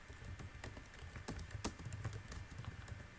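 Rapid, irregular keystrokes on a computer keyboard while entering router commands in a networking lab, a steady patter of close, moderately loud clicks with no talking.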